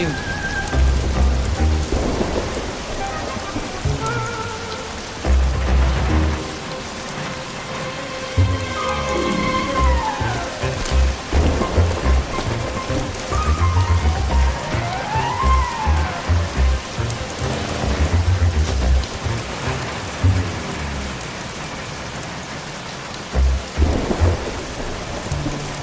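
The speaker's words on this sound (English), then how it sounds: "Oh, no, not the rain." Steady rain pours over the scene in the Bee Movie video game while repeated thunder rumbles roll through, some cracks sharper and closer, with a few swooping whistles drifting above the storm.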